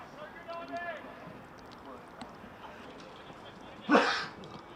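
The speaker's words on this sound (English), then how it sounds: "I'm sure the sneeze came through on other microphones" One sharp sneeze bursts out near the end, loud and close over a quiet room murmur, after faint background speech at a cricket county championship broadcast.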